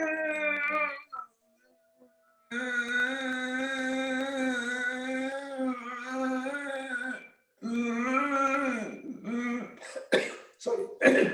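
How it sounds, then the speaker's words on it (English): Harsh coughing bursts during Ujjayi Pranayama breathing practice, a close, clear run of throaty, voiced sounds with brief silent gaps, ending in several short, sharp coughs. "When you get a little cough, entirely normal, because cough comes from your larynx where you're doing a Ujjayi Pranayama."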